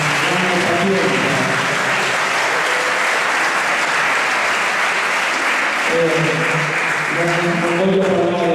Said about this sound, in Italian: prendono un applauso, perché sono stati bravissimi